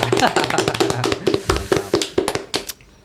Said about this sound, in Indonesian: Tepuk tangan dulu dong yuk